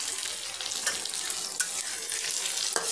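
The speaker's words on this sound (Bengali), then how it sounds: "এই পেঁয়াজগুলো এখন আমি খুব ভালো করে ভেজে নেব।" Onions fry in oil with a pinch of salt, giving an even, hissing sizzle. A few sharp stirring taps punctuate it at close range.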